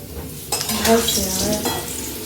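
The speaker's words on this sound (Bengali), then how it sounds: "এই যে দেখতে পাচ্ছ আলু ভাজা হচ্ছে" Potatoes fry in a hot pan, a steady sizzle broken by the scrape of a utensil stirring them around.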